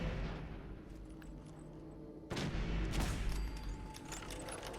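A Fallout 4 gun fires in a single sharp, booming report that rises abruptly out of a low, steady background hum and then rings out briefly.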